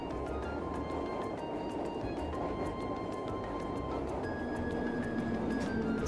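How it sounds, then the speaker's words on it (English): A tram ride in the video game Trails of Cold Steel: a steady, dense rumble of rolling wheels and motor hum that continues unbroken for several seconds, with faint light clicks on top. "Let's take the tram."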